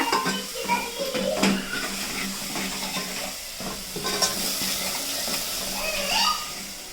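Spices tempering in hot oil for a brinjal curry, a close, busy sizzle with spoon scrapes and metal clinks against the pan throughout.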